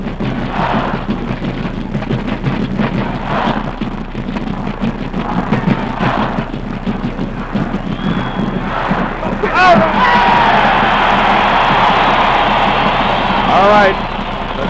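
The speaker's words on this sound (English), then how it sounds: "the cheer from Michigan State Rooters, another 1st down" Michigan State fans roar at a 1966 college football game against Notre Dame, a broad crowd cheer swelling and holding loud for several seconds under an announcer's voice.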